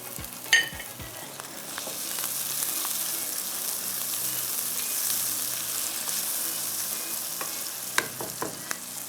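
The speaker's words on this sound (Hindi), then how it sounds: "अब बस प्याज हल्का सा फ्राई हो, हमने इसको ब्राउन नहीं करना" Onions frying lightly in a pan for a home-style Indian dish, giving a loud, continuous sizzle with a few stirring scrapes at the start and end, and no talking.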